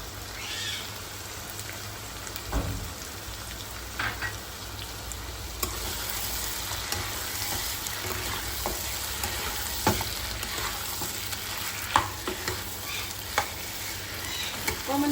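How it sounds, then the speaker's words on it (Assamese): Steady loud sizzling of onions, chillies and capsicum frying in hot oil, a continuous crackling hiss with occasional stirring scrapes and clinks. "ভাজিব লাগিব এতিয়া ভাজি থাকিব লাগিব"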